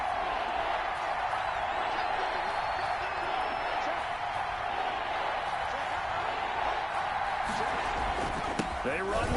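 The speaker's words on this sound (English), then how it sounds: "That just means this crowd's going to get even louder" A stadium crowd at a football game keeps up a dense, steady roar throughout, loud and unbroken, with no single voice standing out.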